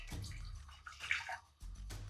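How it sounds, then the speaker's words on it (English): Boiling hot water poured from a kettle into a pot to steep corn silk, a splashing, gurgling stream that starts abruptly, runs for about a second and a half, pauses briefly, then resumes close by. "Add in 1 cup of boiling hot water."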